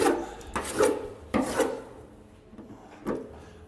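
Repeated rasping scrapes as a tin sheet's edge is hand-scraped, four or five firm strokes with short pauses between, a gritty metallic rubbing heard up close without speech.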